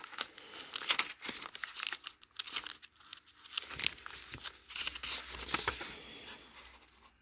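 Packaging and sticker sheets crinkle and tear in bursts of rustling as a box of Hondata FlashPro parts for a 2006-2011 Honda Civic Si is unpacked, close and fairly quiet.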